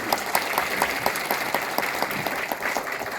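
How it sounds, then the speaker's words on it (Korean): Steady applause from a church congregation at a Christian fellowship anniversary worship gathering, dense and continuous hand clapping at moderate volume with no voices standing out. "우리 감사의 박수 한번 드리겠습니다"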